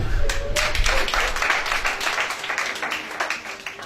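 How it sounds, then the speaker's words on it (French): Church congregation clapping and applauding God, a dense burst of many hands clapping loudly at first, then thinning and fading into scattered claps with faint murmuring voices underneath. "Tu peux acclamer Dieu."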